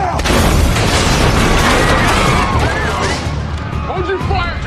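A Chevrolet Nova blows up in a war-film scene, a loud sustained roar of blast and debris rumbling across the whole clip with scattered crackles and gunfire-like bursts, shouted voices heard over the chaos.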